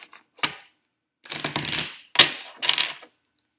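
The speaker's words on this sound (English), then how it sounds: "I'm going to shuffle one more time." Bursts of riffling card shuffles, three quick rapid flurries of papery flapping with short pauses between, close and fairly loud.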